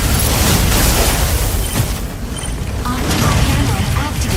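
A mech unleashes a barrage of explosions in the game Mecha Break, loud booming blasts and mechanical rumble that crowd the whole clip, dipping briefly before surging again.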